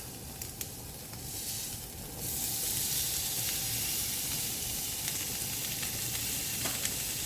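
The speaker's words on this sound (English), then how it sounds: "Hear that nice sizzling sound." Lamb chops sizzle on a hot griddle pan, a soft crackle that jumps to a loud, steady frying hiss and continues with occasional pops.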